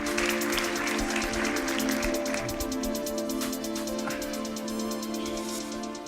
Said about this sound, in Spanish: Les pido entonces un aplauso para dar la bienvenida a nuestro siguiente invitado.